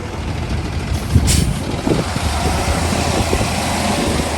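A big tow truck hauling a Dodge Viper on its trailer idles and rumbles up close, with a brief hiss of air brakes and a steady engine drone, no voices.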